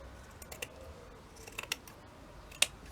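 Scissors cutting quilt fabric: a few faint, scattered snips and clicks, close and quiet, with one sharper snip near the end.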